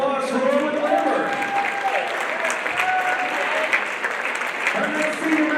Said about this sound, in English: Fans, one more round of applause for Owen Lambert.